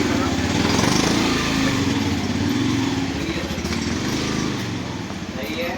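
Motorbikes and scooters rumble through a narrow lane in Varanasi, a continuous close engine drone with revving swells under busy street noise and voices.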